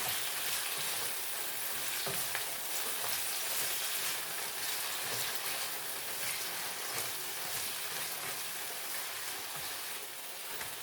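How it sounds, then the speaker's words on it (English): Vegetables sauté in a hot pan seasoned with liquid aminos, giving a continuous soft hiss and crackle at moderate distance with no talking over it. "I'm going to just continue to let those saute."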